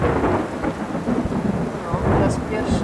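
A night thunderstorm heard from inside a camper van in Sweden: heavy rain drums steadily on the roof while deep thunder rumbles loudly throughout, with no one speaking.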